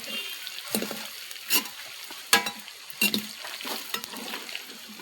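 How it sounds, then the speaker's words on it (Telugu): Boiled chicken fries in sesame oil, a steady soft sizzle broken by several sharp stirring scrapes and clatters in the pan. "బాయిల్ చేసుకున్న చికెన్ని నువ్వుల్లో వేపుతున్నాను."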